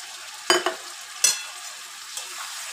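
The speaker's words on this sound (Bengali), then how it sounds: "এবার আমি এতে একটু গরম জল দিয়ে দেবো" Hot water poured into sizzling cooked masala for shahi matar paneer: a few sharp hissing bursts and spoon scrapes close by, fading to a faint low sizzle.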